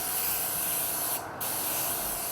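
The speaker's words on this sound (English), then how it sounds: "we're going to airbrush the whole thing" An airbrush sprays pearl sheen color onto a decorated cake as a steady, close hiss, broken once by a short pause before the spray resumes.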